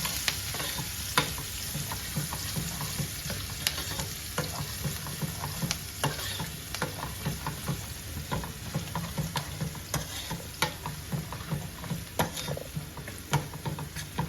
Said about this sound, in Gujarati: ડુંગળી આપણે નાખીને અંદર સાતડવાની છે જ્યાં સુધી ડુંગળી બરાબર સતરાઈ ના જાય ત્યાં સુધી આપણે ડુંગળીને સાતડવાની છે